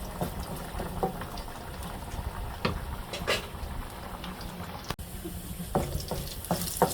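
Green chilies dropped into hot oil over cooking greens, crackling and popping in irregular sputters with a bubbling sizzle underneath, close by, and no one talking.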